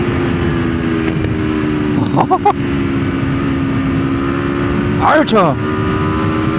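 An Aprilia RSV4 Factory sport motorcycle drones steadily at speed, its engine note shifting pitch with throttle changes, while a rider's voice breaks in over it a few times.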